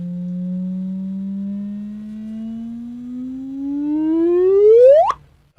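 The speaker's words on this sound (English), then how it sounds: "It's like converting the waves of gravity into waves of sound" A gravitational wave signal turned into sound: a steady low tone that slowly rises, then sweeps sharply upward into a quick chirp and cuts off, loud and alone.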